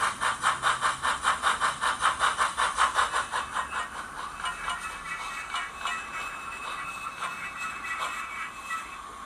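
An OO gauge 2-6-2T model tank locomotive with a Soundtraxx Econami sound decoder chuffs in a rapid, regular beat, strong at first, then fading to a softer, blurred exhaust rhythm.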